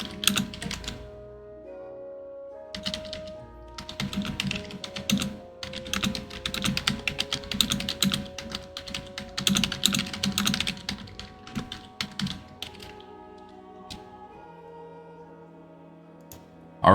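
Rapid bursts of computer keyboard typing, close and crisp, with irregular clusters of keystrokes and short pauses between them, no voices present.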